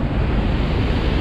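Water rushes at high speed out of the open gates of the Hadagada Dam, a dense, loud, unbroken roar filling the short moment without pause or voices.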